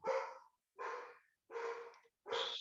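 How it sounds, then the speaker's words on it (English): A dog barks four times in an even rhythm, each bark loud and close with a short gap of silence between, indoors behind an online training session. "dog is barking like anything"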